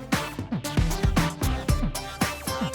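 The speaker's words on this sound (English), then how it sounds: "In Street Fighter VI, Luke has the same theme song" Luke's theme music from the fighting game Street Fighter 6, a punchy track with hard rhythmic hits and bright synth stabs, loud and steady with no voices.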